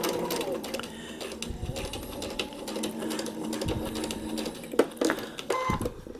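Sewing machine stitching paper-pieced quilt block seams: quiet, rapid mechanical chatter in short runs and pauses, with soft clicks and handling noises close by.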